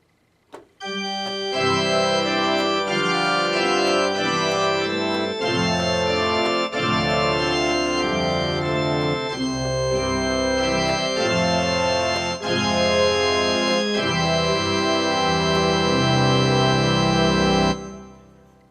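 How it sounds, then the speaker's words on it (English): A pipe organ voice on a Casio WK-7600/CTK-7200 keyboard plays sustained, full chords with rich harmonics, loud and continuous for most of the stretch before cutting off near the end. "only two I picked out of organs are the pipe organs"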